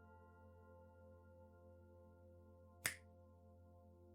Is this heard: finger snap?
yes